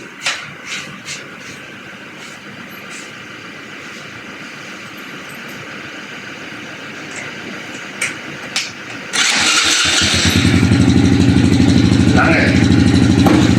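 After a quiet stretch with faint clicks, a motorcycle engine cranks and catches, then idles loudly and steadily close by.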